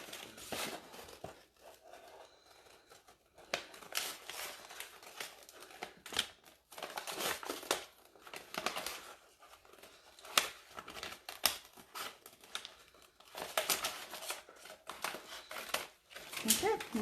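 Scissors snip across a furniture transfer sheet in a run of short crisp cuts with rustling paper handling, close and fairly quiet, with brief pauses between bursts.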